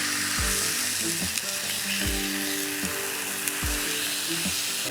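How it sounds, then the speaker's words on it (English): Bacon sizzling on a Blackstone griddle heated to about 350 to 400 degrees, a loud continuous hiss and crackle with a few low thumps and scrapes, no talking. "So we're just gonna put some bacon on."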